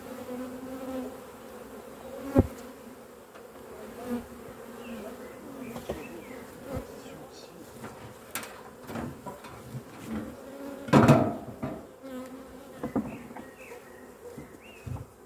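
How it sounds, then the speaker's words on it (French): Honeybees buzz steadily around an open hive while a grafted queen is moved to a new box, a continuous close drone with occasional louder passes and a brief intensified burst near the end. "Ah, il y a de l'abeille là."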